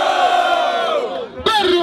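A loud crowd at a freestyle rap battle in São Gonçalo, Brazil, roars and shouts in unison, then cuts to another burst of cheering near the end; no distinct speech.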